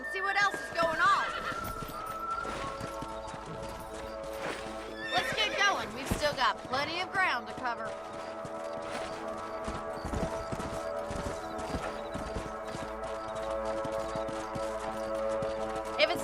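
Horses in the Red Dead Redemption video game whinny loudly and their hooves clip-clop in a steady rhythm on the ground, with background music and a voice talking over them.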